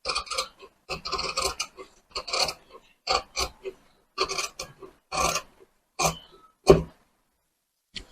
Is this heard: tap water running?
no